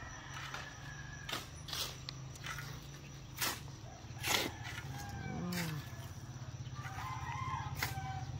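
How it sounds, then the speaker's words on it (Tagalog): A rooster crows at a distance in a rural province amid a steady low hum of vehicle engines, with scattered clicks and other faint bird calls. "Tahimik pa mga tao, pero ang mga sakyan, maingay na pati manok."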